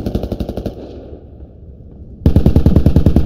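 A video game machine gun fires a loud, close, steady stream of rounds, drops to a brief lull with a fading tail, then opens up again in another rapid burst.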